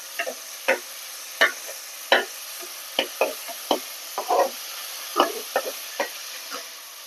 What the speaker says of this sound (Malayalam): ചെറിയ തക്കാളി ആണെങ്കിൽ മൂന്നെണ്ണം നന്നായി ഇളക്കണം കൂടെ കുറച്ച് ഉപ്പിടാം